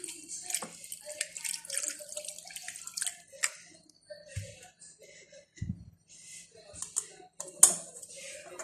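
Water trickles and splashes softly into a bowl of chhena, rinsing out vinegar, with scattered drips and light clinks, quiet and close.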